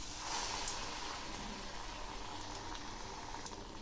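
Green pea pakoras in gram flour batter fry in a wok of hot oil with a dense, even sizzling hiss that runs steadily throughout and no talking.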